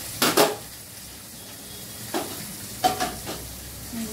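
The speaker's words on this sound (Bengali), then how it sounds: "আর এইদিকে এটাকে আরেকটু নাড়িয়ে চাড়িয়ে নেব।" Food being stirred in a frying pan, with a few scraping strokes of a utensil against the pan over a low background sizzle, close and fairly loud, no talking.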